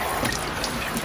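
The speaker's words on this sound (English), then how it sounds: "So I'm just running it under the water until my water comes out clear instead of purple." Tap water runs steadily over tie-dyed fabric being rinsed in a sink, a close, constant splashing hiss with no voices.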